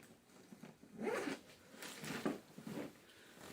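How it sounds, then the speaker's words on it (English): A backpack's main compartment is unzipped in several long rasping pulls, fairly close and clear, with no talking. "Open it, unzip it, and then open it up."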